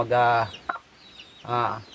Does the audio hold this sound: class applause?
no